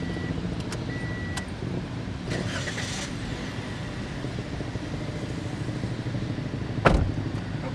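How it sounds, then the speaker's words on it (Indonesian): A 2016 Toyota Sienta G idles at close range, a steady low engine hum with faint clicks early on and a single sharp knock near the end. "Kita coba nyalain mesinnya."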